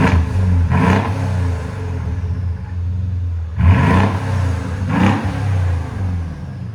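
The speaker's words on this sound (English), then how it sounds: "You can hear the turbo spooling up." A Mercedes S-Class V8 engine revs up hard three times over a loud, steady rumble as the turbo spools. Each rev rises and falls back, heard up close, with no voices.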